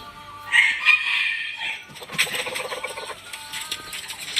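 A seven-month-old Thai fighting rooster crows once nearby, a strained, rising call, followed by scratchy clucking and other fowl noises close by, with no talk.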